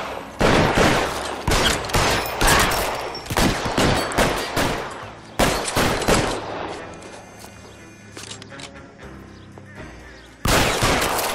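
Gunfight in L.A. Noire: rapid volleys of loud, close gunshots in irregular bursts, easing briefly near the end before a final heavy burst.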